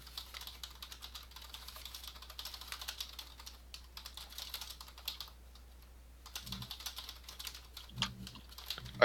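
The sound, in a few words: typing on a computer keyboard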